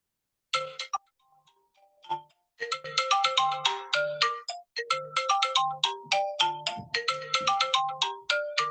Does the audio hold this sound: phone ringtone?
yes